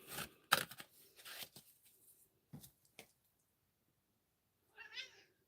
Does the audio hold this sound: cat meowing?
yes